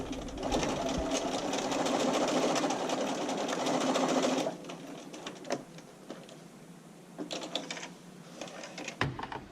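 Sewing machine running a zigzag stitch back and forth along a bra seam allowance: a steady close whirring run for several seconds, then stops, with short bursts and clicks of fabric handling afterward.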